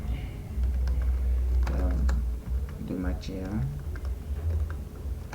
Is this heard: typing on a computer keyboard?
yes